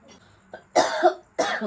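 Two harsh, close coughs in quick succession from a person with a cough of two days, preceded by a faint throat sound.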